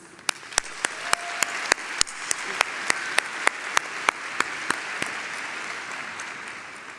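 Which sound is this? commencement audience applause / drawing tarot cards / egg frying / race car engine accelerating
commencement audience applause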